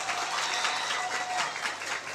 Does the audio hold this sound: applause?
yes